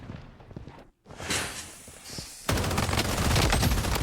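Gunfire from the Blood Strike shooter game on a Halloween party map, a dense and loud stream of automatic shots that briefly stops, then returns even harder and keeps going steadily.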